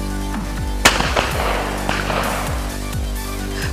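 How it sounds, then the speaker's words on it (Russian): Sharp shotgun reports at a clay target shooting competition in Pavlovsky district, Russia: one loud crack followed by several quieter shots spaced a second or so apart over steady background noise. "В Павловском районе прошел этап Кубка России по стендовой стрельбе"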